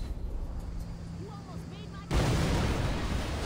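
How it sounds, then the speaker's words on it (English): An explosion in a video game arrives as a sudden loud, broad roar that stays sustained after a stretch of quieter game sound. Talk is heard before the blast. "Wow, that is how you call an explosion."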